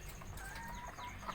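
Laying hens cluck faintly in a short burst, a few soft clucks from a flock over quiet background noise.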